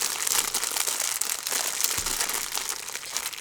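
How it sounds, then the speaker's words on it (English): Crinkling of a corduroy Snoopy bag unpacked during a haul, a continuous dry rustle with scattered sharper crackles lasting the whole stretch, close and steady with no speech over it. "Sorry for the crinkling."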